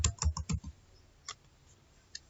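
Quick keystrokes on a computer keyboard while entering field names in a database, a burst of close clicks followed by a pause and a couple of isolated taps.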